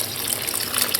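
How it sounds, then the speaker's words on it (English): Hot water pouring into a pot of curried conch, a brief, loud, continuous gushing splash up close. "Now I'm going to add enough hot water to help it cook"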